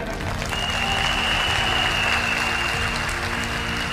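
An audience at a company New Year event gives the organizers a strong round of applause, continuous thick clapping at an even level from start to finish, with a faint steady tone running beneath it.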